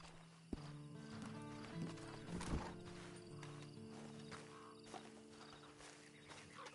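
Horse hooves clopping at a walking pace with a neigh partway through, soft and close, over a quiet ambient background, in the video game Red Dead Redemption 2 Online.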